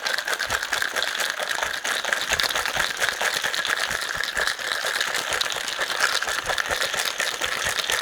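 Cocktail shaker shaken hard for a pineapple and ginger martini with ice, a steady dense rattle and swish that runs without break for about eight seconds, close and loud.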